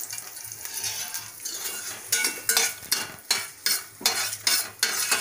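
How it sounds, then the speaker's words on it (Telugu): Green chillies fry and get stirred in a pan for idli upma, a steady sizzle under repeated scraping and clinking strokes of a spoon against metal, close and fairly loud. "పచ్చిమిర్చి మొత్తం అన్నీ బాగా ఫ్రై అయిపోయాయి"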